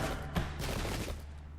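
Musket volley from dragoon cavalry in the Pike and Shot strategy game, a dense crackling fusillade sustained throughout at moderate level with a low rumble beneath.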